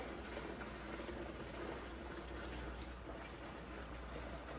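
Water pours from a half-gallon container into a gallon jug in a steady, continuous stream, a faint, even splashing trickle lasting several seconds without talk.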